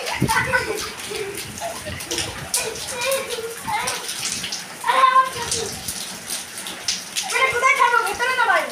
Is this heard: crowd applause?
no